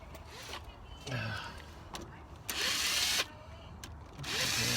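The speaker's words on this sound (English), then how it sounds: "Screwdriver, pry it out." A screwdriver pries a part loose in a Chevy Sonic engine bay, giving several short, fairly quiet scraping and rubbing bursts in a row.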